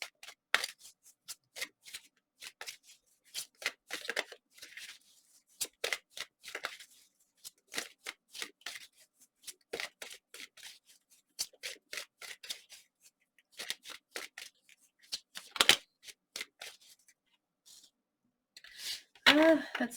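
Tarot cards being shuffled in quick riffling bursts, close and crisp, in repeated short runs separated by brief pauses, with no talk over them.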